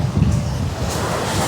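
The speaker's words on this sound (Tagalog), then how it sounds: "Kahit na medyo malakas ang agos ng alon" Strong sea waves wash against a rocky shore where people fish, a loud, rushing surf blended with heavy wind buffeting the microphone, continuous and close with no clear voices.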